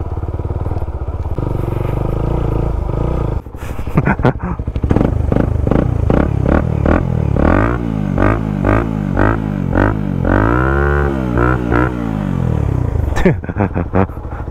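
A Suzuki Raider 150 motorcycle with a loud Vmax racing exhaust idles, then revs hard several times, its throaty roar rising and falling close by.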